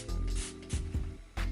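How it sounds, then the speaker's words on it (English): A handheld spray bottle mists water onto type 4 curly hair before gel goes on, giving a few short, quiet hissing bursts close by with no talking. "Spray a little bit of water before I add the gel,"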